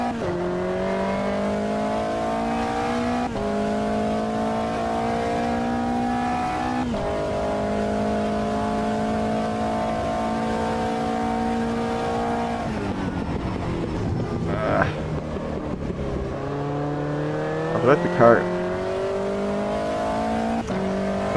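A P4 prototype race car engine at Spielberg in the Automobilista 2 racing game, a loud, steady, high revving drone that dips in pitch at shifts and braking before climbing again, with no talk.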